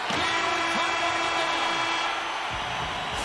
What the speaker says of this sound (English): There's the buzzer, 20 minutes in the books